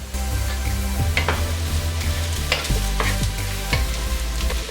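Mushrooms go into a hot pan for a homemade cream of mushroom soup and are stirred, giving steady sizzling and frying with repeated scraping stir strokes, close and fairly loud.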